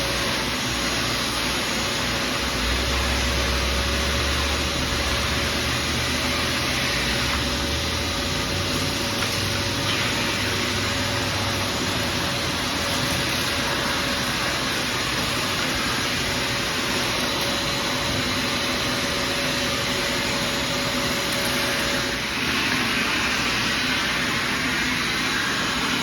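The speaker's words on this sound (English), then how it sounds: "So let me get my vacuum started." Shop vacuum cleaner running loud and continuously for the whole stretch, a dense steady roar with a constant whine, close by and unchanging, with no talk.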